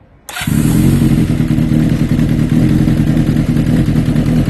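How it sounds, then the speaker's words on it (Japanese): After a brief quiet moment, a Honda CBX400F motorcycle engine with an aftermarket exhaust fires up abruptly and settles into a loud, steady, throbbing idle close by, with no talking. "それじゃああんたたちエンジンかけていくわよ。"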